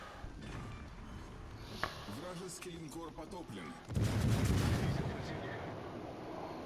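High-caliber naval gunfire in World of Warships Legends, with a steady battle rumble and then a heavy, booming salvo that swells loudly partway through, as a voice talks over it.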